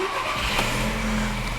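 A car with a repaired DSG gearbox pulls away, a brief engine note with a low hum rising slightly as it starts to move, close by.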